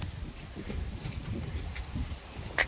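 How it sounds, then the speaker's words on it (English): Low, rumbling gusts of wind buffet the microphone steadily in a garden in Corpus Christi, Texas, with faint rustling and a brief click near the end. "It's very windy."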